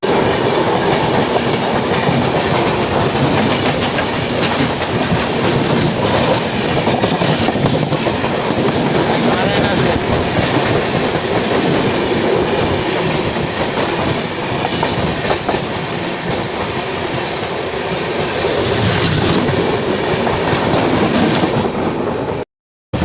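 Lingampally–Vijayawada Intercity Express, train no. 12796, rolling slowly at around 40–50 km/h near Charlapalli: steady, loud onboard rumble with rhythmic wheel clatter throughout, ending abruptly.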